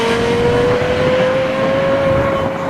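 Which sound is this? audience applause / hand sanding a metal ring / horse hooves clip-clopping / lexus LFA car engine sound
lexus LFA car engine sound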